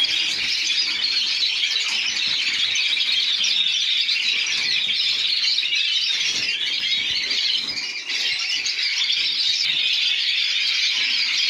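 A dense chorus of many aviary birds singing, chirping and squealing nonstop, loud and close throughout, with no voices.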